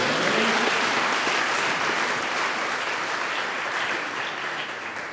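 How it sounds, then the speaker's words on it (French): A church congregation applauding and cheering after a call to acclaim the brothers at a Sunday service, dense clapping that stays loud throughout and fades slightly near the end. "Acclamons tous pour les frères."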